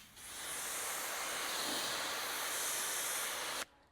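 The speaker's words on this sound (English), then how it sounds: "I'm actually getting very little pressure coming out of the outlet of this nozzle" A pressure washer nozzle sprays low-pressure water into a Porsche 911 panel gap, a steady loud close hiss that holds evenly for several seconds and then cuts off abruptly.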